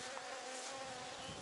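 Honey bees humming quietly inside an opened hive after the super has been removed, a soft, steady, even buzz with no other sounds.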